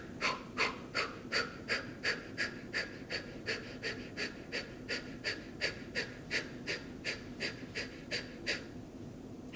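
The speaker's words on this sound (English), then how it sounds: "I'm going to have you breathe in and then" Deep rhythmic breathing during a mindfulness meditation exercise: about two dozen quick, even breaths in and out, close and clear, with no talk.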